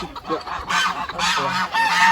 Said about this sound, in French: Là-bas, on a des oies, regardez les oies.